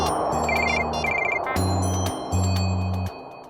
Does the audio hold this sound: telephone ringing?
yes